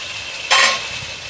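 A brief loud sizzling burst as spices hit hot oil for a country chicken curry cooking on a clay stove, rising suddenly and fading within a second, close up, no talking.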